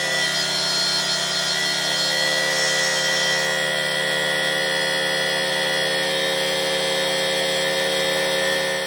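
An old engine runs steadily after its ignition coil was refitted with new contact breakers, a loud continuous drone with a strong steady pitch and no break or voices.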